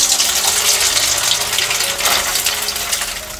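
Cold tap water gushes steadily into a kitchen bowl or sink while soybeans and potatoes are washed, a loud, continuous splashing rush with no talking.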